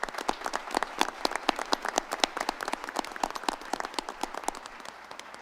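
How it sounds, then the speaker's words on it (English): Scattered audience applause for teachers at a board of education meeting: individual sharp claps from a modest crowd, clearly separate and irregular, fairly close and moderately loud, tapering slightly toward the end. "Let's give them a big round of applause."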